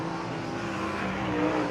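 The number 21 AZ dirt track race car of Team AZ Racing roars through a lap at a USAC Winter Dirt Games event at Bubba Raceway Park, a steady loud engine drone that builds slightly toward the end.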